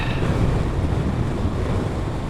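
Strong gale-force wind batters an outdoor microphone beside a Husqvarna 701 Supermoto, a loud, continuous low rumbling roar with steady buffeting and no pauses.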